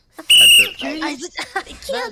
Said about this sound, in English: That's a whistle. That's not a flute.